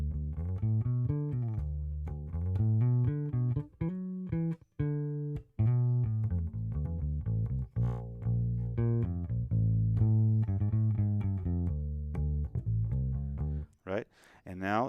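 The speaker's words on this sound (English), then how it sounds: "So we have the flip top and the flip top speaker, and that sounds like this." Electric bass runs through the Darkglass Anagram's flip-top amp and flip-top speaker cabinet blocks, playing a busy, continuous line with deep, full low notes, close and loud, with no talking.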